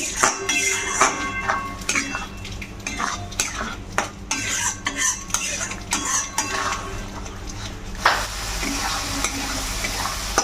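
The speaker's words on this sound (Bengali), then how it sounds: "এবার মশলাটাকে ভালো করে কষিয়ে নেব।" Turmeric and Kashmiri chilli powder masala being fried and stirred in a pan for a Bengali chicken curry, with a steady sizzle under repeated scraping and clinking of a spoon against the metal throughout.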